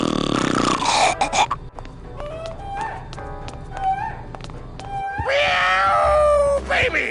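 A cartoonish cat meows and yowls repeatedly in the video game Grim Fandango, with a gruff, burp-like growl at the start and a long drawn-out caterwaul near the end.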